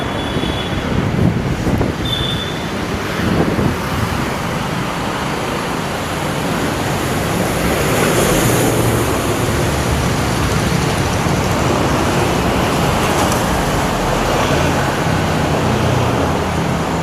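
Road traffic roaring past on a busy street in Kochi, a dense, steady wash of engine and tyre noise close by, loud and continuous with no speech.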